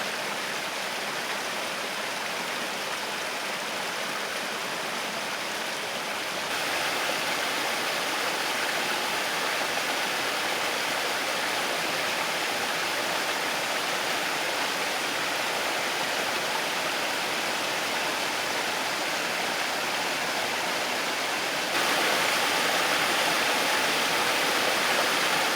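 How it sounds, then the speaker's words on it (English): A forest waterfall about 40 metres high, fed by several creeks joining together, roars as a steady broadband rush of falling water throughout, loud and continuous with no voices. "All the creeks have met up together to form this beautiful little waterfall down there, and it's quite a drop off."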